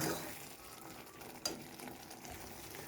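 Tomato pickle is stirred in a pan, giving a soft, faint, steady sizzle with a single small scrape partway through, close and alone with no talk.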